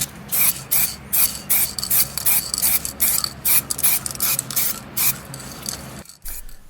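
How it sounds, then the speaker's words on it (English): Black spray paint sprayed onto a BMW E46 M steering wheel, a series of short hissing bursts in an uneven rhythm, close and loud, ending with a brief pause and a faint clunk. "Then I used some standard black spray paint, which was recommended on the internet for interior parts."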